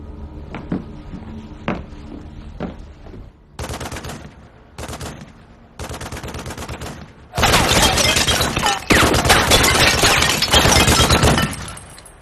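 Gunfire in a science fiction action movie, first scattered single shots, then dense, loud bursts of rapid automatic fire that keep going for several seconds.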